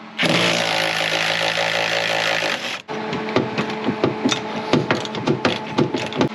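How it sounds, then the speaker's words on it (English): An impact wrench loosens 13 mm shock bolts on a Cadillac CTS. A loud continuous whirring burst runs about three seconds, then gives way to rapid clattering, rattling impacts up close. "I have an impact wrench, so that's what I'm gonna use"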